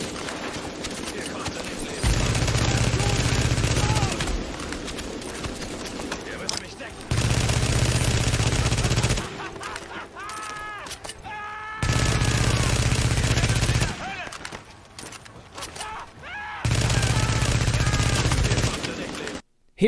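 Video game gunfire in a shooter: sustained loud bursts of automatic fire in several long stretches, alternating with quieter gaps of game sounds and effects.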